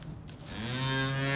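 A cow in the Pope's stables gives a single drawn-out moo, rising and holding its tone for over a second, fairly faint against a quiet barn background.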